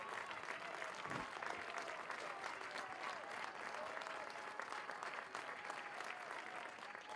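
Near capacity crowd at Don Sanders Stadium applauding during a college baseball game between Kent State and SHSU, steady dense clapping and cheering throughout, heard from a distance.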